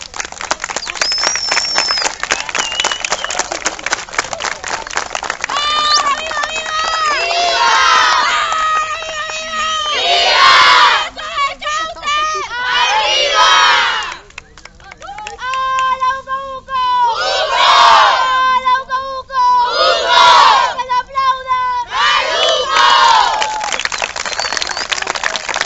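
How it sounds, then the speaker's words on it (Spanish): A crowd gathered around a bonfire applauds and cheers in repeated loud bursts of shouts and whoops, rising and falling over steady clapping, with voices calling out between the swells. "yo les pido un aplauso para este grupo de gente que está aquí desinteresado"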